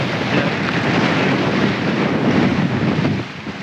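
Steady wind roars across the microphone on a sailboat heading toward Abel Tasman National Park, with a broad, constant rush of air and water that eases slightly near the end; no talking.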